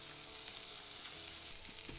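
Rice stir-fried with kimchi and enoki mushrooms in a pan over medium heat makes a soft, steady sizzle, with quiet stirring scrapes near the end and no voices.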